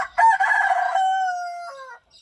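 A rooster in a backyard chicken coop crows once, close and loud, a long harmonic call that rises, holds and tails off over about two seconds, with no talking.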